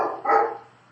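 A pet dog barks indoors during a lecture, one short muffled bark rising sharply in the middle, moderately loud and alone with no talk over it.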